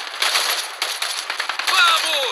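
Rapid automatic gunfire in the video game Just Cause 4, a dense close crackle of shots lasting a couple of seconds, with a voice shouting over it.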